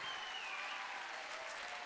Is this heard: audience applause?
yes